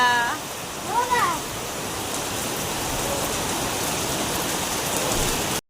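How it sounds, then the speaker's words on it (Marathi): Heavy rain falls in a dense, steady wash close by, with a brief warbling bird call near the start and a faint voice early on. "हा बघा पाऊस जोरा जोराचा चालू झालेला हे बघू शकता"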